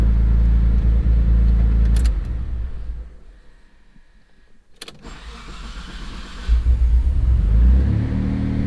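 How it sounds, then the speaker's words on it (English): A Mitsubishi 3000GT with a 6G72 engine and AEM Series 2 management on a warm start idles with a loud low rumble, goes quiet, then cranks and fires back up to a deep, close idle. "Alright, this is the last time I'm going to try to crank it and start it."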